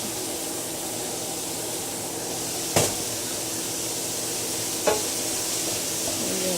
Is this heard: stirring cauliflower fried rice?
yes